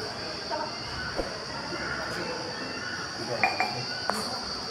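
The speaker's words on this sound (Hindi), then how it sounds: "ये देखिए बर्तन धुले जा रहे हैं बाबा से।" Dishes and utensils clinking as they are washed at a Sai temple in Bithoor, Kanpur, with a few sparse, faint metallic clinks over steady background ambience and a constant high hum.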